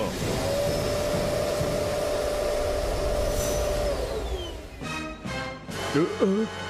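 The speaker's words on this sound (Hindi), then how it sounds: "वैक्यूम सिस्टम ऑन करो।" A cartoon vacuum system hums and whines steadily for several seconds, then winds down as voices and effects take over near the end.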